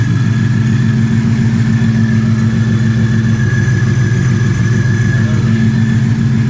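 A supercharged Ford Shelby GT350 idles close by with a loud, steady, throbbing drone and a constant high whine over it, and no distinct blow-off valve burst stands out.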